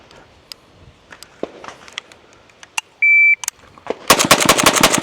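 A Zastava M92 firing GROM ammunition: a loud, rapid burst of close gunfire near the end, preceded by scattered clicks and handling noises and a short electronic beep.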